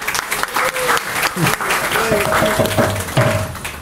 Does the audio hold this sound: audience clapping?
yes